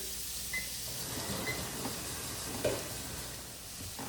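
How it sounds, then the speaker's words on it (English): Mushrooms sizzling in butter in a pan for Cajun shrimp pasta, a soft continuous frying hiss with a faint clink or two, fairly quiet and steady. "Take some butter. Throw the mushrooms on in there."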